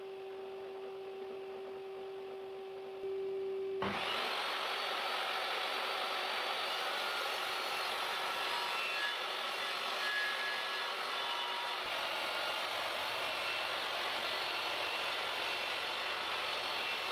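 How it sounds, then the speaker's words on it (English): A DeWalt table saw hums at idle, then at about four seconds a loud broadband rush takes over as it cuts plywood for a crosscut sled, with the sustained cutting roar continuing to the end. "I squared up the edges on a piece of plywood and then cut the main sled out"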